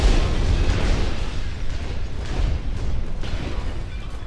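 Rockets launching and blowing up from a missile system in a video game, a continuous loud, rumbling roar of overlapping explosions that eases slightly toward the end, with no voices.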